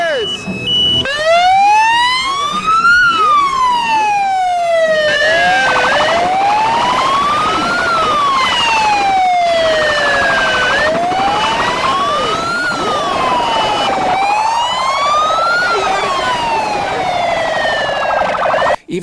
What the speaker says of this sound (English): They then created a huge traffic-blocking scene, blaring their sirens